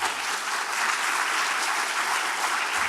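A large audience at an environmental stewardship prize event claps loudly on request, a thick, sustained roar of applause held evenly from start to finish.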